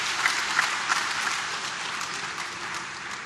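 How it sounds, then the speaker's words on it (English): A crowd at a 2018 Ekiti political debate claps steadily in warm, continuous applause, dense and sustained throughout, heard from within the audience. "Now you can give yourselves a round of applause"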